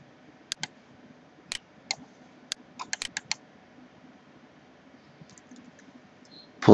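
A computer mouse clicking on software, about a dozen sharp, quiet clicks close by, spaced irregularly with a few quick pairs and short pauses between them.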